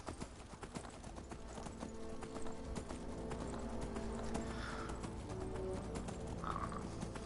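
Horse hooves clip-clop steadily in the video game Skyrim while the player rides, joined by a couple of brief whinny-like calls over continuous in-game ambience.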